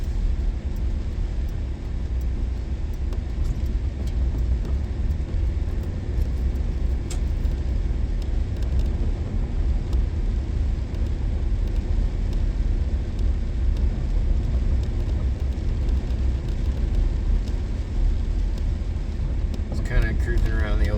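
A car cruises through a residential neighborhood, its steady engine and road rumble heard from inside the cabin, continuous and moderately loud, with a person talking over it at times.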